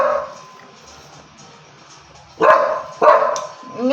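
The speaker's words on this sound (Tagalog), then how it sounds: "Yung talaga kung aso maingay" A dog gives two sharp, loud barks close by after a quieter stretch of low murmuring, with a faint whine at the very end.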